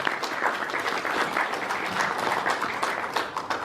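Conference audience in East Africa applauding, a dense, steady wash of many hands clapping at once, sustained and fairly loud from start to finish.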